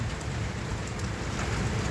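Heavy rain pours over flooded farm fields, a dense, steady hiss and patter with no pauses.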